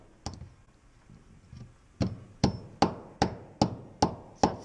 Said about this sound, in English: This is why all of Pete's chisels are dull.